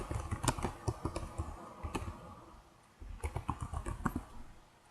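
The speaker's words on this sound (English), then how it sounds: "if I type in example announcement in the subject line" Typing on a computer keyboard while entering a subject line into a Blackboard 9.1 announcement form, with bursts of close, crisp key clicks in uneven rhythm, a short pause near the middle, then another quick run of keystrokes.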